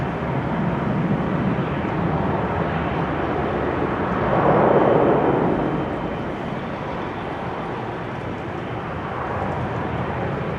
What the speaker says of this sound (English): second to arrive to runway 27 right now is RX Charter. That is a CRJ Mitsubishi Challenger 850.